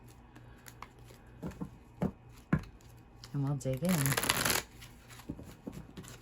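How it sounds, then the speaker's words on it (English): A deck of oracle feelings cards is shuffled by hand nearby, with light taps and then a dense riffling burst for about a second. A person speaks softly before and after. "These are my feelings decks, so I'm gonna shuffle these"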